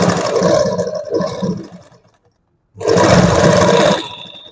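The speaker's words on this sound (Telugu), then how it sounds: "సేమ్ ఇందాక డబుల్ కుట్టు ఇటువైపు కూడా వేసుకోవాలి." A sewing machine runs in two loud, steady bursts while stitching a double seam on a blouse, with a short silent pause between them.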